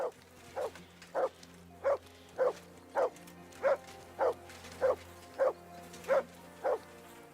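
A dog in Kingdom Come: Deliverance 2 barks repeatedly in a steady rhythm, about a dozen evenly spaced woofs over a low ambient hum, moderately close and clear.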